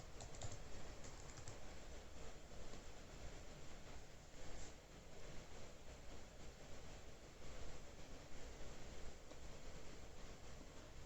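Someone types a password on a computer keyboard, producing a steady run of faint clicking keystrokes over quiet background noise.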